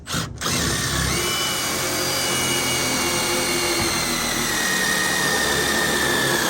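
A power drill runs almost without pause, driving self-drilling screws into wooden trailer deck boards during a deck replacement, with a steady loud whir after a brief gap at the start.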